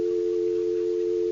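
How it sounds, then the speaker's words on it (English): A steady, unbroken telephone dial tone hums loud and close, a single pure pitch with no interruptions. "Oh, hello there, dial tone."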